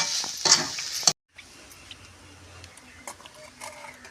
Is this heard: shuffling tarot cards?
no